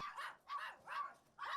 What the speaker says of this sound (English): some of those hoarding dogs, the little Chihuahuas, we've actually got those in some cat cages.